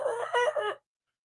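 A human voice imitates a rooster crowing, giving a short crow of three quick rising and falling bursts that lasts under a second, close and fairly clear, then drops into silence.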